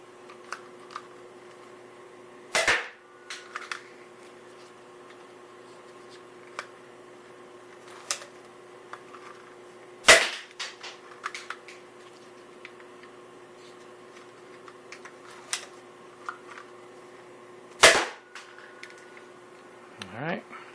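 A modified Nerf Nite Finder blaster fires foam darts in three sharp, separate shots spaced several seconds apart over a steady low hum, with small clicks of handling between them.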